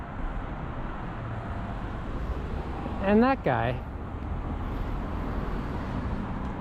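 Heavy road traffic in Ottawa makes a continuous broadband roar heard from a rider in the flow of cars. A short spoken phrase cuts in partway through.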